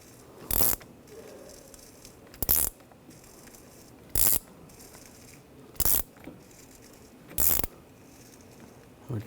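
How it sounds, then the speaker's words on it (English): A brake caliper piston on a 2013-2016 Dodge Dart's rear brakes is turned clockwise with a compression tool, giving five sharp, evenly spaced ratcheting clicks separated by quiet pauses. "Slowly compress the piston."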